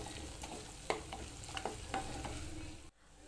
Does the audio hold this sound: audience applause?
no